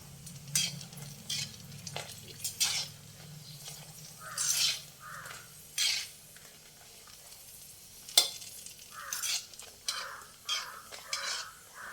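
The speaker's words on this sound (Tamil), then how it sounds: "ஃபஸ்ட்டு மிளகாய் வறுத்து எடுத்துக்கணும்" Red chilies frying in hot oil in a home kitchen, with soft sizzling bursts and scattered stirring scrapes of a spoon against the pan, intermittent and close, with no talk.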